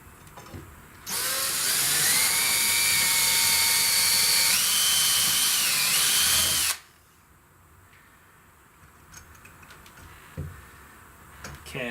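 A power drill pre-drilling screw holes whirs loudly for about six seconds, its pitch shifting as it bites, then stops, leaving quiet room noise with faint clicks.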